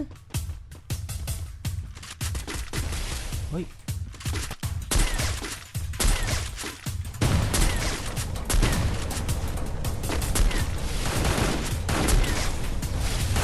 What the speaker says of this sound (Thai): ยิงกันอยู่เขายิงกันอยู่